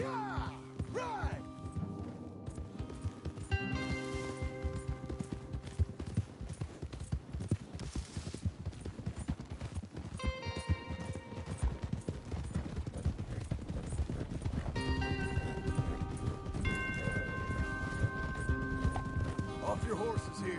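Horse hooves clip-clopping at a steady gallop in Red Dead Redemption 2, with occasional whinnies, riding under game music and dialogue between riders throughout.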